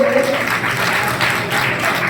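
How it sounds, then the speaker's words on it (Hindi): Audience clapping to cheer on children at a community welcome and prize ceremony for Shri Omdas Ji Maharaj in Laxmangarh, a steady, fairly loud wash of hands across the whole stretch with a low tonal hum underneath and no voices. "जोरदार तालियां बजाते जाए बच्चों के उत्साहवर्धन के लिए"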